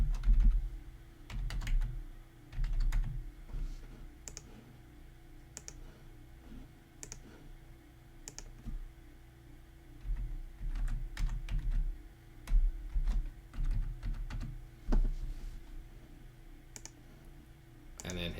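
Computer keyboard being typed on while configuring a Zigbee radio in Home Assistant: scattered close clicks and short bursts of keystrokes with pauses, fairly quiet, over faint background hum and a voice at times.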